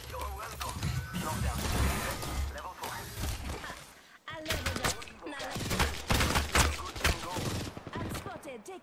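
Dense automatic gunfire and crashing impacts ring out in an Apex Legends match, with sustained bursts and volleys in close succession, loud and near, mixed with a brief pause and game voices speaking over the action.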